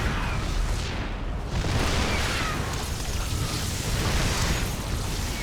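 StarCraft 2 cannons fire during a busy battle, with rumbling bursts and booms rolling over a dense, noisy roar that never drops away.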